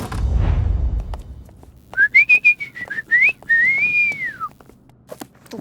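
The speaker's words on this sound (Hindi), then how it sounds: "ये आपको देखकर सीटी नहीं बजा रहे।" A man whistles in a police station overrun by rats, a loud close melodic whistle of several short rising chirps followed by a longer sliding phrase, after a brief low thump, with no talk.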